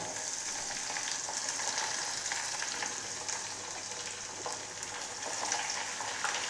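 Dried red chillies and chopped shallots frying in hot oil, a steady close hiss of sizzling with faint crackles and occasional stirring scrapes throughout.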